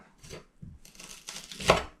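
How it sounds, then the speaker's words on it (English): Kitchen knife chopping vegetables on a board for pasta bolognese, a few uneven cuts close by with rustling between strokes, the last chop loudest. "you're gonna thinly chop it up"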